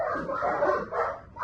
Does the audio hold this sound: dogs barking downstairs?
yes